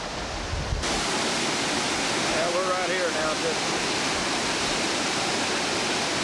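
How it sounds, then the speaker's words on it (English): Small creek cascades tumbling down a little stream in Glacier National Park, a steady broadband rush of flowing water throughout, close and continuous, with someone speaking briefly over it. "these cascades going down this little stream, and it goes right down through there"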